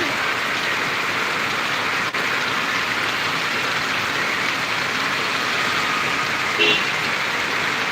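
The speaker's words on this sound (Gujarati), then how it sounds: "ખૂબ સરસ મજાનો વરસાદ" Steady, dense rain hisses evenly throughout, a constant wash of falling water with no voices and only a faint click near the middle.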